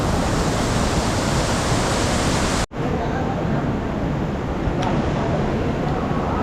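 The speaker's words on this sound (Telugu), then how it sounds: "చూడండి ఎంత పెద్ద వాటర్ ఫ్లో." A large Himalayan river flows at Yamunotri in a loud, continuous roar of rushing water, close and steady, broken by one brief cut partway through.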